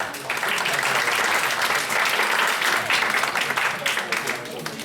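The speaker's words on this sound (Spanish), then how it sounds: "Un aplauso, por favor, para estar aquí" Loud, dense applause from an audience, sustained throughout with a crowded, close sound and some voices mixed in.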